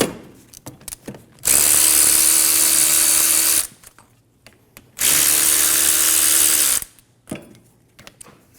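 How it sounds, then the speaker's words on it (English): A power tool with a 14mm socket spins off brake caliper bolts on a 2008-2015 Scion xB rear brake, two loud whirring bursts of about two seconds each with clicks and quiet gaps between. "Using a 14mm socket, remove the caliper bolts. Crack them both free first."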